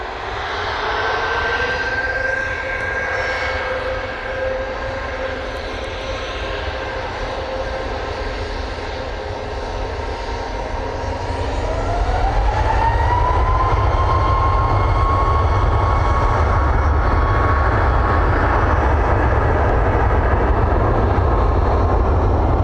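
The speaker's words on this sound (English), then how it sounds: "TUI 737 Max 8 coming on." A TUI Boeing 737 Max 8 jet airliner takes off at Manchester Airport, its engine roar building loud and steady with a rising whine partway through, heard from a distance amid light wind noise.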